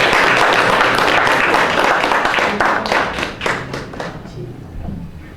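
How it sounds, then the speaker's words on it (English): An audience at a girls' school business plan competition claps for award winners, a loud burst of dense applause that thins into scattered separate claps and fades toward the end. "Can you clap for them?"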